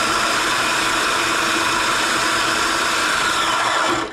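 A blender runs steadily at high power, grinding raw food into a paste, loud and continuous with no talking, then cuts off abruptly at the end.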